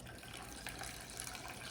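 Water pouring in a steady, faint stream into a lemon sauce for garlicky fish, a continuous soft liquid rush with no talk.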